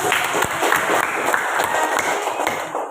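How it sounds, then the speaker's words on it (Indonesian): Classroom applause from a group of high school students in an Islamic religious education lesson, a dense, steady patter of many hands clapping close by for the full stretch, with scattered sharper claps standing out. "Ya, kasih tepuk tangan dulu."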